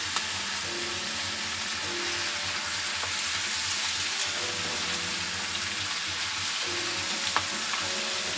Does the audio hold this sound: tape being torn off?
no